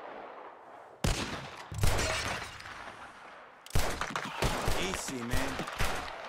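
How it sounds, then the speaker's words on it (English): Loud gunshots and shattering glass as bottles are shot in a Red Dead Redemption 2 shooting contest, sharp cracks and breaking bursts in two clusters, with someone speaking briefly between them. "The one who shoots the most bottles wins."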